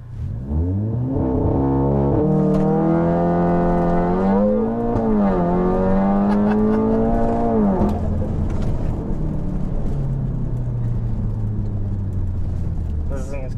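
Tuned Stage 3 VW Golf 7R with a full turbo-back exhaust and water-meth injection, its engine note rising loud and steady under hard acceleration, pitch climbing through gears with a shift near the middle, as people talk over it inside the car.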